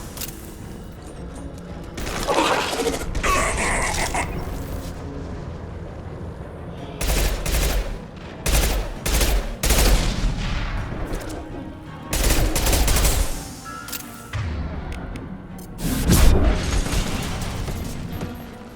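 High-impact gunshots in the video game Mass Effect 2, loud bursts of gunfire and booms arriving in clusters between quieter pauses, some rapid fusillades and heavy impacts.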